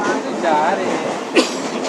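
A Mumbai local train running nearly empty on the Goregaon line towards Dadar gives a steady rumble and rail hiss. A brief clank sounds near the end, with faint voices in the carriage.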